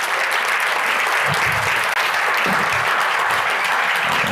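Sustained audience applause fills a hall at a sold-out summit as a speaker comes up to the stage, a dense, even wash of clapping from a large crowd with no voices over it.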